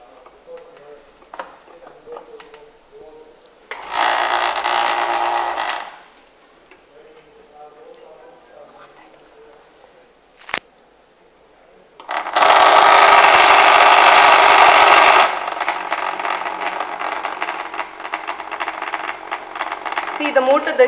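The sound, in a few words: electric motor running in chopper-controlled circuit project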